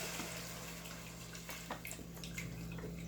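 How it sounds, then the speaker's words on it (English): Chicken stock pours from a container over noodles and chicken in a pan, giving a faint, continuous liquid trickle and splash with soft drips, close by and quiet. "chicken stock, and we're going to pour it over"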